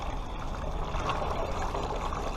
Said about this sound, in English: get yourself a little pitcher of water, or you can do this along the way as well, and we're going to pour it on our high sloped edge